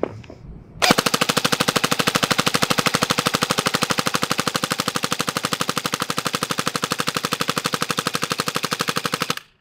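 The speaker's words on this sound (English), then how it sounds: "You came here to see me shoot full auto" A double-barrel airsoft gun fires full auto in one long, rapid, evenly spaced burst of sharp mechanical shots. The burst lasts close to nine seconds after a short quiet start and ends abruptly.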